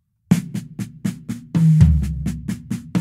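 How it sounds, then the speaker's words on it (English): Single notes on the toms in a drum fill, about eleven crisp, evenly spaced hits with a low boom swelling under the middle strokes, close and without talk. "And the single notes he plays on the toms."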